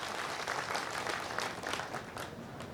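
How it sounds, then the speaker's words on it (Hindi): Crowd at a rally in Vijaypur applauding, a steady, fairly distant patter of clapping heard on its own. "विजयपुर की जनता के लिए जरा जोरदार तालियां बजाकर उनको धन्यवाद दें"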